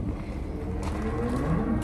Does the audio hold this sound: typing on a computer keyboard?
no